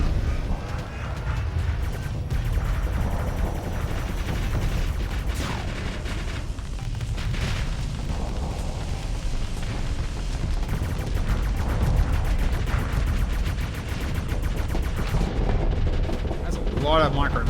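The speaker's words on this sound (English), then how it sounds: "A lot of micro missiles. Yes, they aren't stopping all of them." Swarms of micro missiles firing and exploding in a Starsector space battle, a continuous rumbling barrage of rapid launches and blasts with crackling bursts, with voices talking over it.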